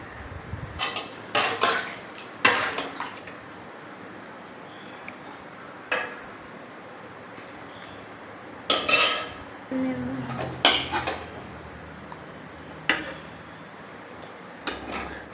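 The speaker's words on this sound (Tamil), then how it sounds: "இப்போ நம்ம சாப்பிட்றதுக்கு தட்டில் சாப்பாடு போட்டுப்போம்" Home-cooked South Indian lunch of rice, sambar and varuval being served onto plates, with scattered clinks and scrapes of a ladle and spoon against metal dishes, spaced irregularly through a quiet room.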